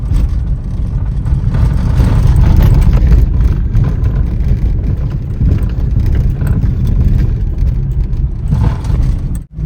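A Hyundai Santro's engine hums and drones as it creeps slowly down a steep mountain road toward Pangong Lake in Ladakh, a loud, close, steady low rumble with slight fluctuations and no talk.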